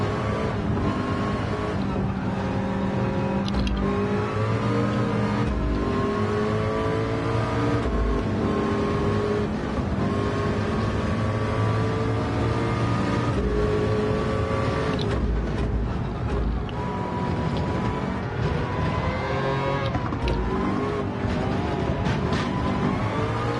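Race car engines droning and shifting pitch in a Le Mans endurance racing game played in VR, a continuous loud layered roar of several cars with rising and falling revs throughout.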